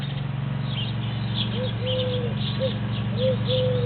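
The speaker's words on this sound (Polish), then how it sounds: "Gołębie są." Soft pigeon cooing in a few short low calls over a steady mechanical hum, fairly close.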